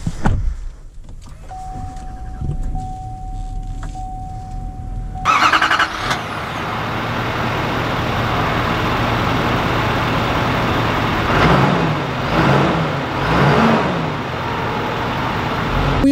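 A 2020 GMC Sierra 3500 Denali pickup truck drives off. A quiet cabin with a faint steady tone gives way to a sustained broadband road and engine rumble that swells slightly later on.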